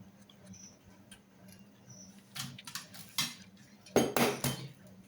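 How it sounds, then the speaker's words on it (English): Eggs are whisked in a bowl for a vanilla cake. Faint clinking starts things off, then a few louder bursts of rapid metallic rattling and tapping follow near the close. "Then I whisked that up."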